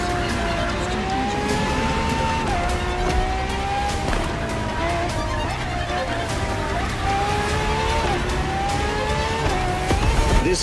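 Ferrari FXXK supercar, a lab-enhanced LaFerrari, racing in The Crew Motorfest, its loud close engine howl climbing through the revs with sharp drops at each gear shift over several seconds.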